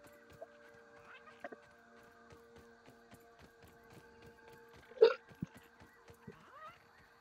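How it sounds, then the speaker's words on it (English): A video game character in Grounded lets out a single meaty hiccup over quiet game ambience scattered with small ticks and clicks. "That was a very meaty hiccup."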